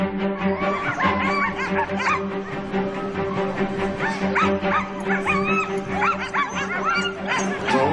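Sled dogs at the start of the Iditarod sled dog race bark, yip and howl continuously in a dense, excited chorus, loud and near, with crowd noise mixed in.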